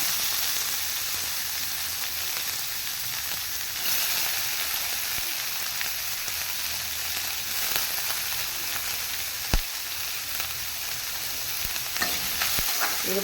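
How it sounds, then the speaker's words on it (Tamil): Chopped onions sizzle steadily in a hot pan with garlic for a velai keerai poriyal, a loud continuous frying hiss broken by occasional scrapes and knocks of stirring, with no voices. "வெங்காயம் நல்லா வதங்கிட்டோம்."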